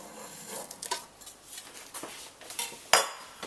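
Sugar mixture pressed into a tray being scored into cubes with a metal utensil, giving a handful of light scraping clicks and taps at uneven intervals, close and fairly quiet, ending on one sharper knock.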